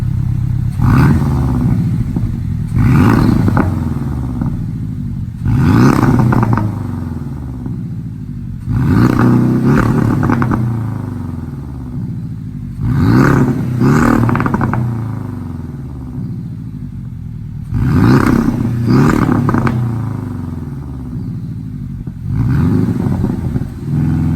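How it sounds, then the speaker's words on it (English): A Porsche 718 Cayman GTS with an aftermarket exhaust revs up loudly in repeated bursts about every three seconds, each surge dropping off with crackling pops between them, close and alone. "you give it a little gas and let off, that's when it's going to make it crackle quite a bit"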